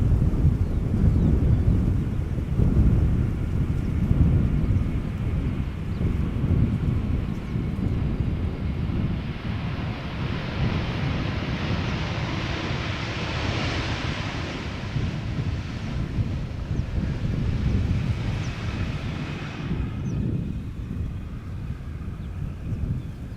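A KLM Boeing 747 landing at Schiphol airport, heard as a broad, steady roar of wind and engine noise that slowly swells to a hissing peak midway and then fades, with no voices.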